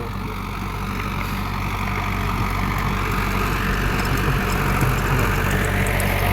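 Swaraj tractor driving a rotavator through stony field soil, giving a steady, loud low engine drone and churning rumble throughout, with no speech.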